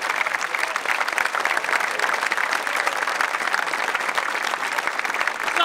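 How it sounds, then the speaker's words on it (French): A crowd of football supporters at a street rally applauds the players, loud, dense clapping sustained evenly throughout with crowd murmur mixed in. "On applaudit les joueurs."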